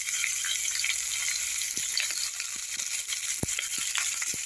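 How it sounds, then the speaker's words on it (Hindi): Chopped tomatoes fry in a hot pan of matar masala with soyabean, sizzling loudly and continuously up close, with scattered light clinks and pops over the crackle and no voices. "इस टमाटर को भी तब तक हम फ्राई करेंगे जब तक ये हल्की सी सॉफ्ट ना हो जाए"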